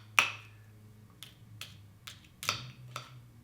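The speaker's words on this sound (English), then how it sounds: "I'm going to give it a tap on top. Hear that? Yeah. And just kind of give it a little crack." A spoon taps and cracks the caramelized sugar crust on top of a homemade creme brulee, giving several sharp, brittle clicks spaced irregularly over a few seconds, close and fairly quiet.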